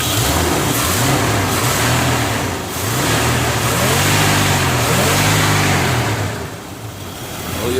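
A truck's 350 V8 with an Edelbrock 750 CFM carburetor, new radiator and a slight exhaust manifold leak revs repeatedly from idle, rising and falling in loud, close swells with a brief dip in the middle, with no talk over it.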